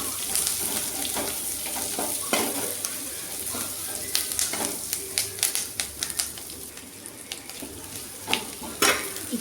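Onion, garlic and ginger sizzle in a pan, a faint continuous frying hiss broken by sharp clicks and scrapes from stirring.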